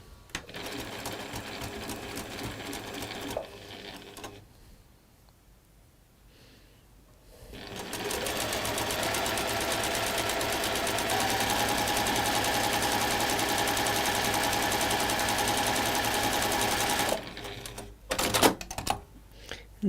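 Domestic sewing machine stitching fabric, a rapid mechanical whirr that runs in bursts, pausing briefly, then a long steady run before stopping with a few clunks.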